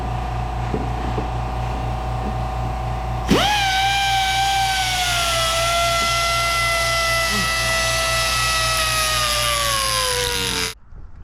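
A power tool starts up with a loud, high whine to cut a spacer for a vintage John Deere Trailfire snowmobile ski shock, the pitch sagging slowly under load before stopping abruptly, over a steady low hum.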